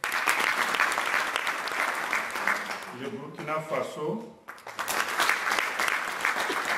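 An audience at an African officials' training ceremony breaks into loud sustained applause for each named country, dropping away briefly while a man announces the next name and then surging back.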